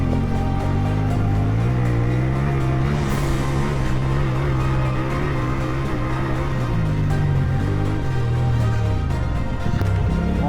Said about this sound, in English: Where else to test this bike than on a motocross track?